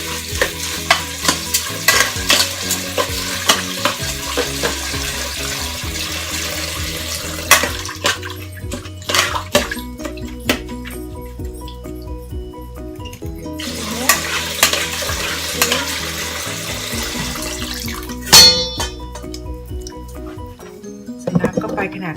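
Dog food of ground meat and water being stirred in a pot, irregular scraping and sloshing with a sizzling undertone, close and loud, with a voice talking at times.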